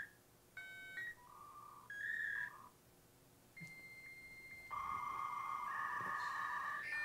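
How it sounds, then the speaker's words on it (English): A dial-up modem connection sequence plays from a recording: dial tones, then a series of steady electronic beeps and tones that step in pitch, growing into a loud sustained high whistle with overlapping tones near the end. "recording of what a dial-up modem sound like"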